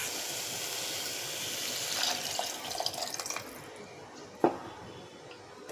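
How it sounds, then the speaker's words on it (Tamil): Water poured from a cup into a pot of vada curry on a home stove, a steady splashing pour that tapers off, followed by a single sharp clink near the end. "இப்போ நம்ம தண்ணி ஆட் பண்ணிக்கலாங்க."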